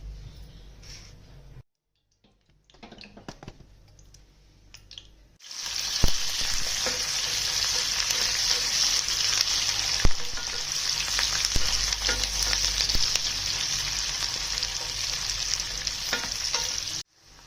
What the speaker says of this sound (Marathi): कांदा परतला गेला बघा छानपैकी असं।